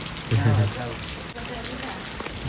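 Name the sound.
light rain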